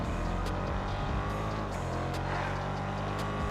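Car engine in GTA Online with a lowered front and no engine upgrades, a steady loud droning rumble running throughout without a break.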